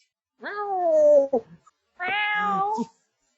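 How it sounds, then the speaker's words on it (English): Two drawn-out cat meows, close and clear, separated by a short pause in otherwise quiet surroundings. "Cat sounds."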